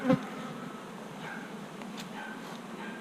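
Honeybees hum steadily around a hive in a soft, continuous drone, close but not loud, with a brief bump at the start.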